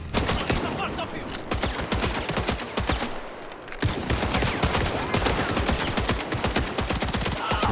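Rapid bursts of machine gun fire rattle continuously during an attack on a hotel in Indiana Jones and the Great Circle, loud and close, with a brief lull midway before the shooting resumes.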